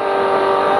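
Trophy truck engine running hard during an off-road race, heard from inside the cab as a steady, loud, continuous drone with no breaks.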